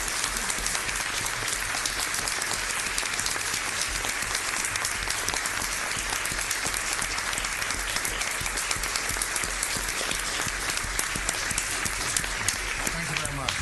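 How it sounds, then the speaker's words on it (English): Sustained, even applause from a crowd rising for a team at a county commissioners court meeting, dense and continuous for the whole stretch, with speech likely mixed in underneath. "let's just give them a round of applause."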